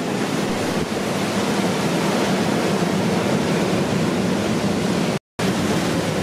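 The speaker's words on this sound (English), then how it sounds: "You gotta check these waves out." Ocean surf rolling onto the east coast of Saipan, a steady, loud wash of breaking waves that fills the whole stretch with only a momentary dropout near the end and no voices.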